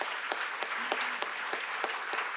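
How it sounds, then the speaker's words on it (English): Audience applause fills a conference closing session for departing committee members, a dense, continuous wash of clapping with a few sharper individual claps standing out. "let's send them with a big round of applause"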